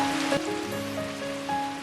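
Rain falls steadily on a surface, a dense even patter with a few brief louder knocks, close and continuous with no voices.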